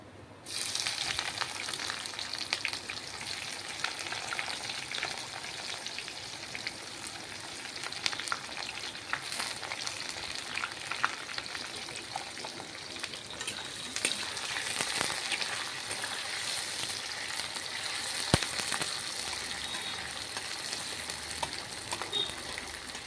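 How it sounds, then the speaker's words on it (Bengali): Onions frying in hot oil after cumin seeds, giving a steady, loud, close crackling sizzle that runs unbroken throughout, with faint stirring scrapes and no voices. "জিরা হয়ে গেছে, এখন পেঁয়াজ দিয়ে দেবো।"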